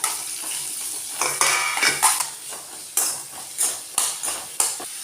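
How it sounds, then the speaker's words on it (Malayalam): Cut raw mango pieces stirred with chilli and salt in a pan, a spoon scraping and clattering against the metal in repeated close bursts with no talking. "ഇനി ഇതിലേക്ക് നമുക്ക് മുറിച്ച് വെച്ച മാങ്ങ ഇട്ട് കൊടുത്തിട്ട് നല്ലോണം ഇളക്കിയെടുക്കാം."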